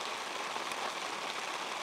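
Rain falls over a palm oil plantation as a dense, even hiss of drops that carries on without a break.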